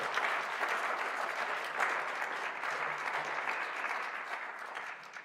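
A church congregation at Sunday worship applauds after singing together, a continuous, moderately loud patter of many hands that tapers gently near the end.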